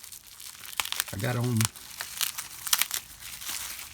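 Crinkly packaging from a mail-order hobby parcel is handled and torn open up close, with dense bursts of sharp crackling and rustling throughout and someone speaking briefly in the middle.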